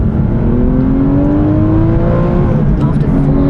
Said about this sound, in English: so is the sound of this car